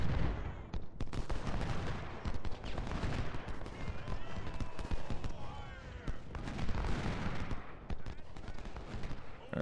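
Dense volleys of Spencer repeating-rifle fire in a Civil War battle of the Ultimate General: Civil War strategy game, rattling continuously and loudly for the whole stretch amid layered battlefield din.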